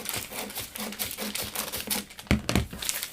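Dress fabric being cut along the centre with scissors: close, quiet crinkling and rustling of cloth, followed by a couple of sharper snips near the end, with no talk.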